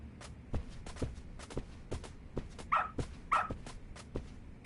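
A dog in the video game Lost Judgment gives two short whimpering barks, set among soft repeated footsteps and shuffling at low volume.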